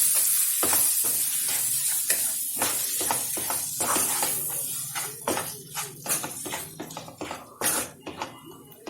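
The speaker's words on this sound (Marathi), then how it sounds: "दोडका भाजून घेतलेला होता तो टाकून घेणार आहोत आणि त्याला सुद्धा मिक्स करून घ्यायचं आहे आणि परतून घ्यायचं आहे" Roasted ridge gourd for bharit being stir-fried in a pan, with a loud sizzle and repeated sharp scrapes and clanks of the spatula that grow more spaced toward the end.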